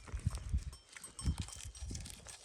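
Haymana Karası sheep out grazing at night make faint, soft low calls and shuffling movements in an open field, quiet and distant with a steady hiss of background.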